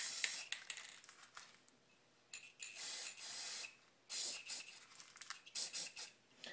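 Clear coat sprays from an aerosol can onto a GameCube controller in several short, hissing bursts of about a second each, separated by brief pauses and heard up close.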